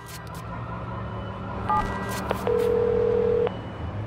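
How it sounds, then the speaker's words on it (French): In the video game Watch Dogs 2, a phone dials with a few short electronic beeps followed by a longer sustained tone, heard over a low engine-like game background hum. "Le vrai auditeur va recevoir un coup de fil de Jimmy Siska."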